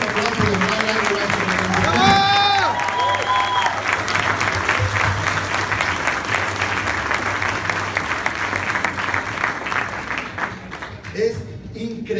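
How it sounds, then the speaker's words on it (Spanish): An indoor audience of around 400 people gives sustained, loud applause with dense clapping that slowly thins near the end, while voices call and cheer over it early on. "Un fuerte aplauso de Mara."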